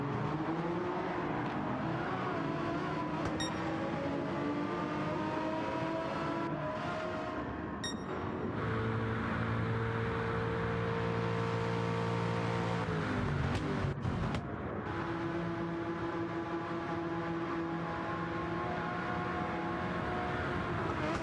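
Group C race car engines, including a Porsche 962 and a Jaguar XJR9, drone in Gran Turismo 7, a steady layered whine of revving motors that shifts pitch as cars pass and change gear, with no talk.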